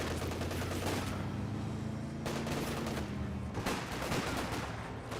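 Machine-gun fire from an MG42 or MG34 in the wartime strategy game Company of Heroes 2, heard as a continuous, fairly quiet wash of distant battlefield shooting with overlapping bursts and no clear pauses.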